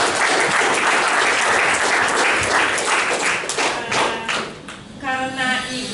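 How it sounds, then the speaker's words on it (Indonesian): Seminar audience applauding a speaker, a dense wash of many hands clapping steadily for several seconds before thinning out as a voice begins speaking near the end. "Masih kita kasih aplaus untuk Ibu Dr."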